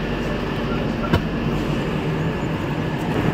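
Steady low rumble inside a Garib Rath Express AC train as it stands at or pulls into Goalpara Town station, with a continuous hum and a brief clank partway through, and no clear talk.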